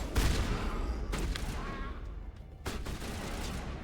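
Gunfire from shotguns in the video game Mass Effect, several loud booming blasts at close range over a dense background of combat noise.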